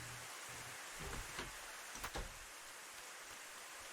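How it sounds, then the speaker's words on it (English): Rain falls at night as a steady, soft broadband hiss, with a few dull thumps and a brief knock-like burst near the middle against the constant wash. "Oh crap, it's raining!"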